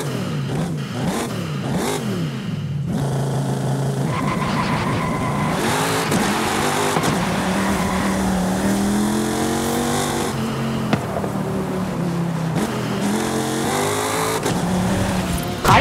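A sports car engine revs repeatedly in the racing game Forza, pitch climbing and falling through gear changes, with a brief tire squeal, loud and continuous.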